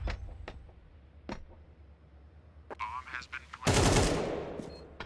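Sparse Galil rifle shots in a competitive video game match, a few sharp isolated cracks followed by a louder burst of fire near the end, under a commentator's voice.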